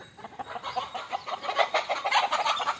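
Several chickens, including a black chicken, cluck steadily and busily close by while eating meat, a continuous chorus of short clucks with no one talking.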